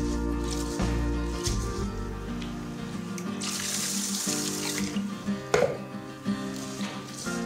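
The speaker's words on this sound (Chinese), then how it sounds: "浸泡大米的水倒掉，然后重新倒清水" Clean water is poured over soaked rice in a bowl, a close, continuous splashing and gurgling stream that swells in the middle and ends with a few wet squishes and clunks.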